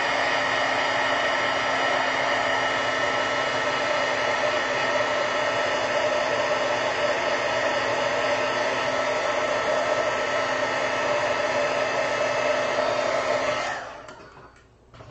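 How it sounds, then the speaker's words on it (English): Heat tool blowing air over a freshly painted terracotta pot, a loud, steady whooshing drone held for about thirteen seconds before cutting off. "I'm going to have to use the heat tool because we're on a mission here."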